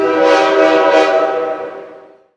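An EMR (East Midlands Railway) train sounds a loud sustained horn blast as it passes close by, the tone holding steady before fading away over about two seconds.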